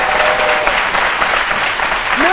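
Studio audience applause on a French midday TV talk show, a steady dense wash of clapping at close range that fills the whole stretch, with a faint voice rising near the end.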